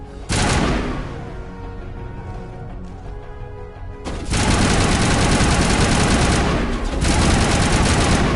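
Sustained automatic gunfire in the Mass Effect video game, a dense continuous rattle that runs loud through the whole stretch, easing briefly around the middle before resuming even heavier.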